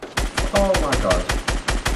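Rapid bursts of gunfire in the video game Fortnite, about nine sharp evenly spaced shots over two seconds, loud and close.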